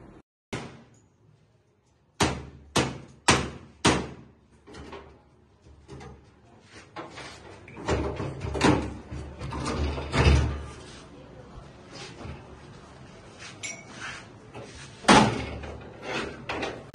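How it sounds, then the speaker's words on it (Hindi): A metal tool strikes the hinge of a broken house door in a run of sharp, loud bangs, first a quick series of four, then irregular knocks and scraping, with a voice talking in between. "तो अब यह थोड़ा मार रहा है कब्जे के ऊपर ना, दरवाजे के कब्जे के ऊपर"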